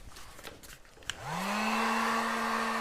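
A hair dryer clicks on and spins up to a steady, loud whine and whoosh, blowing close by to dry freshly applied cracking plaster paint.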